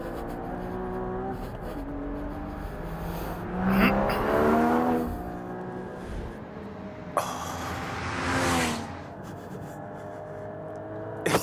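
A Porsche Cayman GT4 engine revs hard through a track lap, rising and falling with gear changes, with wind and road rush close up and no talk.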